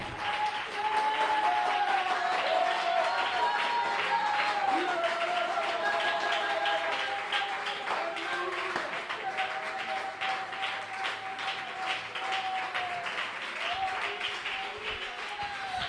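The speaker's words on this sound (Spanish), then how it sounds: "¿Alguien puede aplaudirlo?" A church congregation applauds during a sermon, continuous dense clapping from a large crowd lasting the whole stretch, with scattered voices and shouts rising through it and a slight fade toward the end.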